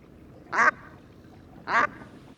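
Brant geese calling across open lagoon water, recorded on a phone: two short, raspy honking calls about a second apart, moderately distant over a low background hiss.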